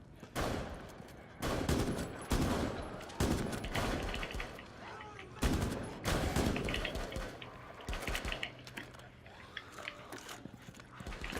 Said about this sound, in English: This light machine gun's a quality item because it's got, you know, plenty of bullets to throw at things